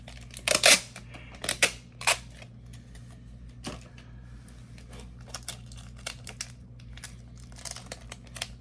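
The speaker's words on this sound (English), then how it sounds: "Let me grab a piece of tape here." A strip of tape pulled off a roll during a resin craft session gives a few sharp crinkling tears near the start, followed by sparser small handling clicks and rustles, close and fairly quiet.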